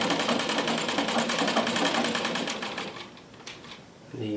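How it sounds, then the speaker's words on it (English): Royal Brother sewing machine with an oscillating hook running at speed, a fast, even mechanical chatter that is fairly quiet, winding down near the end as a voice begins. "a very quiet machine. I mean, really, it's surprising considering it's an oscillating hook machine."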